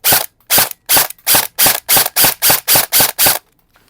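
A Lancer Tactical HFC airsoft rifle fires ten sharp, loud, close shots at an even, fairly quick pace, each a crisp crack with a short tail, then falls silent.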